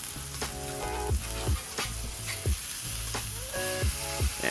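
Smash burger patties sizzle loudly on a Blackstone flat-top griddle, a steady close frying hiss broken by repeated metallic scraping strikes as the spatula lifts the crusted meat, with no talking.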